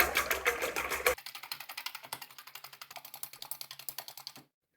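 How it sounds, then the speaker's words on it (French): Eggs are whisked briskly in a bowl, a fast, even run of light clicking strokes, close and clear, stopping abruptly at the end. "une fois qu'ils sont dans le bol, vous les fouettez"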